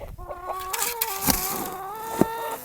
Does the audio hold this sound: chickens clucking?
yes